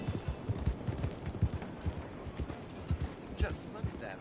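Horse hooves clop in a rhythmic gait in Red Dead Redemption 2, moderately close, with a brief whinny-like sound near the end and a voice talking over parts of it.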